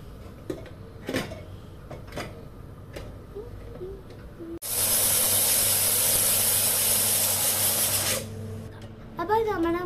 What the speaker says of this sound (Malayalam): ഇനി നമുക്ക് കുക്കറിൽ നന്നായി വേവിച്ചെടുക്കാം.